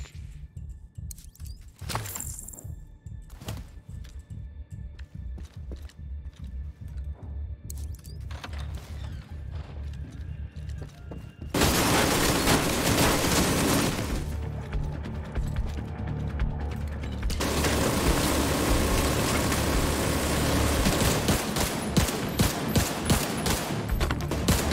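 An ammo stockpile detonated in The Division 2 goes off as a loud sustained blast about halfway through. Scattered crackling and clicks come before it, and a second rumbling surge follows, continuing with popping debris.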